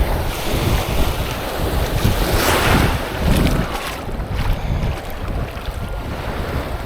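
Ocean waves wash onto the beach at Anna Maria Island, Florida, a steady roar of surf blended with strong wind buffeting the microphone, with no talk.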